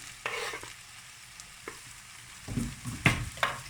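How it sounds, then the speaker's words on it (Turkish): Roasted peppers and eggplant go into a frying pan, bringing light sizzling and a few sharp scrapes and clatters of stirring, close but fairly quiet. "Hemen ardından böyle közlenmiş biber ve patlıcanı tavaya alıyorum."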